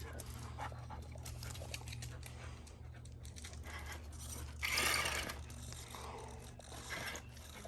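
A dog pants and sniffs close by beside an Axial 4WS Capra RC crawler car, soft and breathy with a brief louder burst partway through, over a quiet background.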